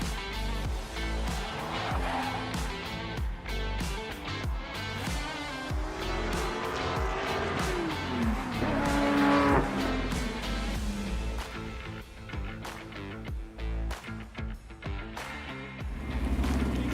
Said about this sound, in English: When those lights go out, these cars get loud, and we go motor racing.